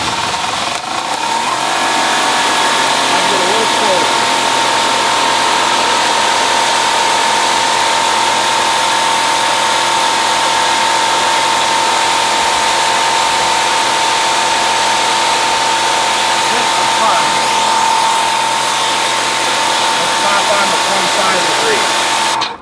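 A Greenworks PRO 2200 electric pressure washer sprays steadily and loudly for the whole stretch, with a sustained hiss and motor whine held throughout.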